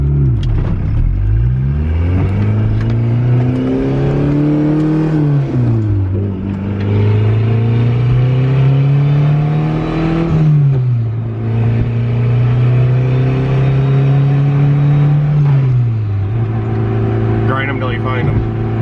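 A turbocharged Honda Civic EF engine drones through a test drive, rising and falling in pitch as it accelerates and shifts, loud and close inside the car, with people talking over it.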